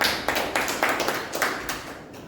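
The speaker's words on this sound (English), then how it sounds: "Please give him a round of applause." A short burst of applause from a small group at a Toastmasters club meeting, with clapping rising and falling in waves, close and fairly loud.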